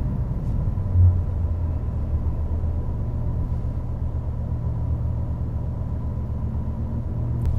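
A 2015 BMW i8 drives along a road, its low engine and road rumble a steady, fairly loud drone heard from inside the car with no talk.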